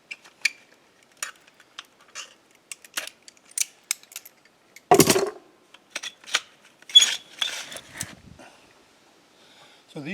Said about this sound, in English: So these just unscrew and unlock.